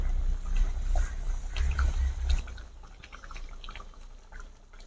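Fish curry with fresh coriander leaves boiling over a high flame, a bubbling, watery simmer with soft pops that fades slightly toward the end.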